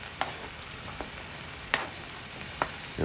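Pineapple fries in a pan for vegan fried rice, a soft, steady sizzle with a few faint clicks of stirring, no voices.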